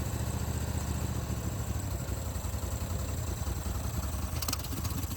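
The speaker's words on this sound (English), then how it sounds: "I don't think this engine's made to idle that low." An old barn-find ARGO 6x6 amphibious vehicle idles very low and rough, close by and steady. The engine sounds on the verge of stalling and runs on alone, with no talk.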